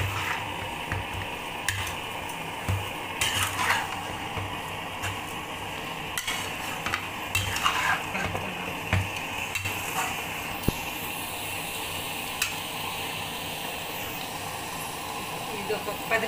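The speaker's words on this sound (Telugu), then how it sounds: "ఇప్పుడు చికెన్ అంతా వేసేసానండి దీంట్లో. ఇప్పుడు కలుపుకుంటున్నాను." Chicken is stirred in a pan over a full flame, with scraping and clanking of the utensil over a steady sizzle, heard close and continuing throughout, while a voice talks over it.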